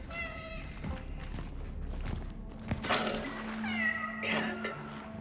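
Cat meowing in the Cronos: The New Dawn video game, several drawn-out meows at close range over a low droning ambience with faint thuds.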